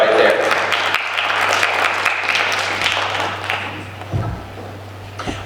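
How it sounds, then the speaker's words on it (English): Audience applause at the Miss Phenix City Pageant 2022 after a competition segment, steady dense clapping from a crowd that holds for several seconds and thins toward the end over a low hum. "let's give them another round of applause."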